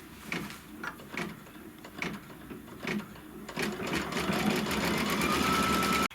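A computerized embroidery machine stitches a tack-down, fixing a piece of fabric over placement lines. It runs in short rhythmic mechanical bursts, then settles into a steady, louder whirring run close by.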